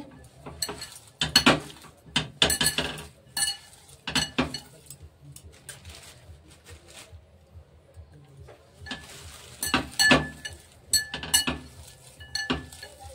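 Bitter gourd pakora batter with flour and puffed rice is mixed by hand in a bowl: irregular bursts of wet squelching, scraping and clinks against the bowl, a quiet pause midway, then more mixing; nobody speaks.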